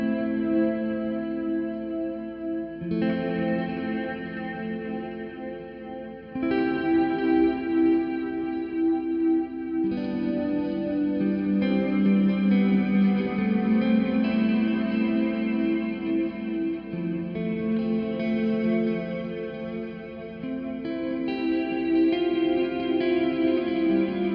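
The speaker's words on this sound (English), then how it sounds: "I'll start off ringing through those chords, and then on the next pass, I'll start picking around the chords" An electric guitar played through ambient effects: chords ring out in long, reverberant washes that change every few seconds, then single notes are picked around the chords, layered with echo and chorus shimmer.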